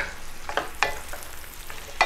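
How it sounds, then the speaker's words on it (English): Sliced apples sauté in a pan, giving a soft, steady sizzle with a few crisp clicks and scrapes as they are stirred, fairly quiet and with no talking. "keep sauteing here just for a few minutes longer"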